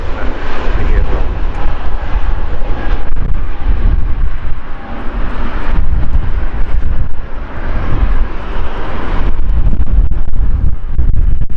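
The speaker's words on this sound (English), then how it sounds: "And this is a fairly new A320, just a year old." A fairly new Airbus A320 jet passing at Manchester Airport, a loud sustained engine roar with wind buffeting the microphone throughout.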